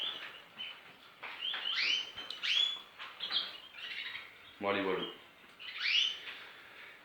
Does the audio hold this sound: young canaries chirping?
yes